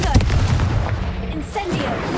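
A fiery blasting spell goes off in Hogwarts Legacy combat, heavy rumbling booms and bursts filling the moment while a voice shouts over the fight.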